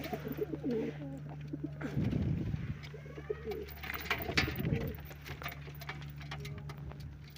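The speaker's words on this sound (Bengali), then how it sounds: "দেখো তো বন্ধুরা প্রচণ্ড ছোলা খাই আমার পায়রাগুলো" Pet pigeons coo in low, throaty bursts nearby while pecking at chickpeas. Scratchy shuffling and pecking noises run underneath, and a faint voice can be heard in the background.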